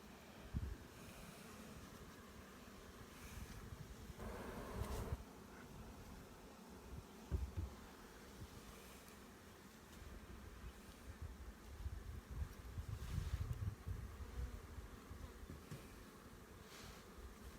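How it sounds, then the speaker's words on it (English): Faint buzzing of honey bees around a hive, a low steady drone with soft wind noise in the background. "Still got a few bees out here that are a little upset with me."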